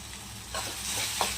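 Garam masala is stirred into a curry frying in oil, giving a close sizzle with soft scraping stirs and a brief clack near the end.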